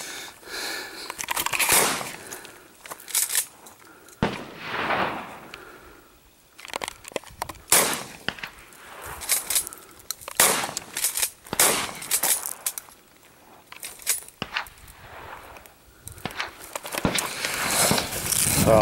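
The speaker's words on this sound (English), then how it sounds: "There's a lot of people out here shooting." Guns fire at a busy outdoor shooting area, sharp reports scattered irregularly through the recording at varying distances, some close and loud, others fainter, with wind and movement noise between.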